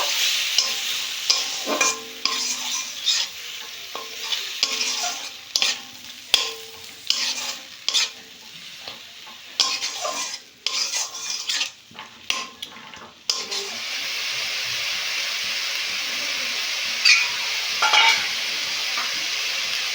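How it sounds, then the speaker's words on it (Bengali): Onion paste fries in a pan for a Bengali doi katla fish curry, with steady sizzling broken by frequent stirring scrapes and clinks of a spoon against the pan, close and continuous throughout. "পেঁয়াজটা আবার একটু বেশ ভালো করে ভেজে নেব।"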